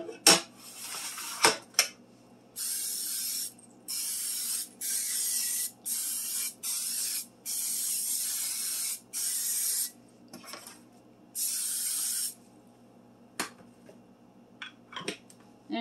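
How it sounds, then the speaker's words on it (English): Butter spray hisses into a cake pan in a run of about eight steady, close bursts, each lasting roughly a second, separated by brief pauses and faint clinks of the pan. "I'm going to spray it with butter spray."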